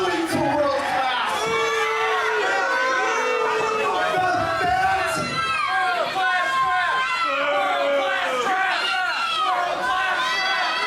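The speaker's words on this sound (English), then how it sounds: "Why are you booing me?" A loud wrestling crowd at a live tag team match roars and jeers continuously, a dense wash of shouting voices filling the whole stretch without pause.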